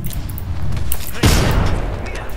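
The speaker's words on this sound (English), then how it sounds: "Eat thermite!" A thermite grenade goes off in Apex Legends, a sudden loud burst midway followed by a crackling, sizzling rumble, amid distant gunfire with a voice talking over it.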